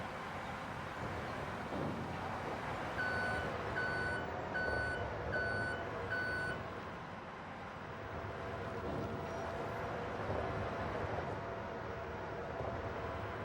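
Truck reversing beeps in Farming Simulator 25, a run of five evenly spaced electronic tones over a steady engine and ambient rumble, clear and moderately close, with no talk.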